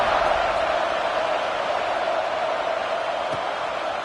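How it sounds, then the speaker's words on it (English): Stadium crowd noise in a college football video game: a steady, dense roar of cheering fans holding at an even, loud level throughout. "this crowd now ready to get behind them"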